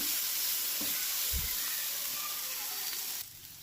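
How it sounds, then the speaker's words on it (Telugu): Soy sauce hits leftover fried rice in a hot pan, a close, continuous frying sizzle with a couple of low thumps from stirring, the hiss dropping off sharply just before the end. "ఇప్పుడు మనం దీంట్లో సోయా సాస్ వేసుకుందాం కొంచెము"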